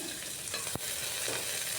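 Chopped onions fry in mustard oil with cumin, cinnamon, cardamom, cloves and bay leaf, giving a soft, steady sizzle close by, broken once by a sharp utensil clack against the pan.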